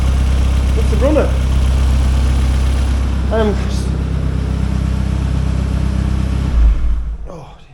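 A 1.8-litre turbocharged engine in a Spire GTR runs steadily at idle, a loud continuous low rumble with a couple of brief whining chirps over it, ending in a short bump as the sound cuts off.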